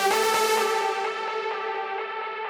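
Sustained tonal synth stack run through a delay with feedback turned well up in a progressive house production, its bright repeats smearing into a continuous echoing wash that slowly thins and fades over a few seconds, with no voices.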